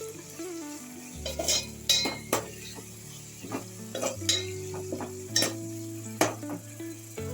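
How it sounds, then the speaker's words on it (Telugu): Ginger garlic paste and green chillies frying in a pan, a soft sizzle under repeated scraping stirs and light clinks of a spoon against the pan, close and fairly quiet. "అల్లం వెల్లుల్లి పేస్ట్ 1 స్పూన్ అల్లం వెల్లుల్లి. ఇది 1 నిమిషం ఫ్రై చేద్దాం."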